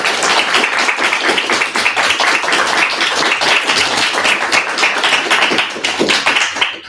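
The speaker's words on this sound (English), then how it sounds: "I think it's time for an applause." A university lecture audience applauds at the close of a talk, a loud, close burst of many hands clapping with crisp individual claps, sustained evenly throughout with no talking.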